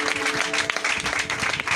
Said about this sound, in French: Acclamons Jésus pour le couple.